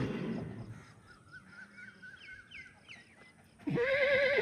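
Faint bird chirps drift in the background, then a restless foal of a Nukra mare lets out a loud, wavering whinny close by.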